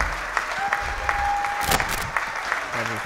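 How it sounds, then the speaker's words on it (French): Audience applause at a comedy show, loud sustained clapping from a crowd with scattered shouts and voices mixed in, plus a brief whistle-like tone partway through. "On applaudit encore"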